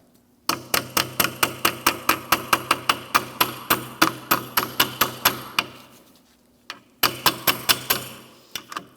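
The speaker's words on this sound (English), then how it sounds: "I just have to tap it on because of the rust" A hammer taps a socket down over the rusty rear shock mount of a 2016–2025 Chevrolet Malibu, a rapid run of about twenty sharp metallic strikes, a short pause, then five or six more close and loud.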